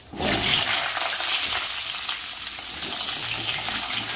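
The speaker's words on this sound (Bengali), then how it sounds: "সবজিটা একটু হালকা ভেজে নেবো" Cut vegetables dropped into hot oil with dried chilli and panch phoron, bursting into a loud, steady hissing sizzle that starts abruptly and carries on close and unbroken.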